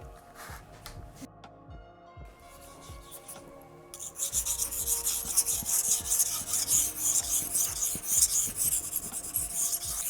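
A kitchen knife is sharpened on a Tatsuyama whetstone, with quiet rhythmic scraping strokes that become louder and grittier halfway through, repeating steadily back and forth up close.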